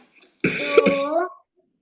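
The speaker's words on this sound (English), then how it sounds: "are you coughing so loudly?" A single loud, close cough with a throaty, rasping edge bursts out during an online maths class, lasting about a second before silence returns.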